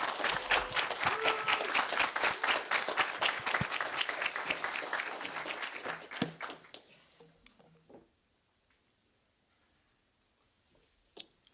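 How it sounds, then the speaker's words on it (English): Applause for graduates at a cohort graduation ceremony, a dense round of clapping from a crowd that holds steady for about six seconds, then thins out and fades to near silence, with one last faint clap near the end. "please join me in recognizing the accomplishments of our graduates with a round of applause"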